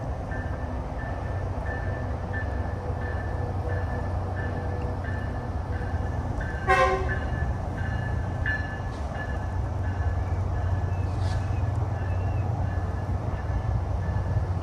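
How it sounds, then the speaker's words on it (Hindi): A Tri-Rail commuter train arrives with a steady rumbling roll and a brief sharp horn or brake squeal partway through, fairly close and loud, with no talking. "तो आ गई है ट्राई रेल।"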